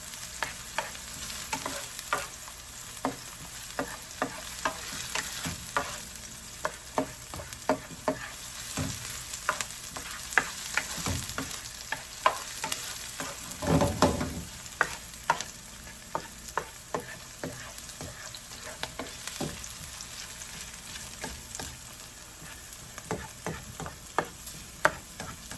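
Pork tongue sautés in a hot pan, a steady quiet sizzle and crackle broken by frequent sharp taps and scrapes of stirring, close and continuous with no talk.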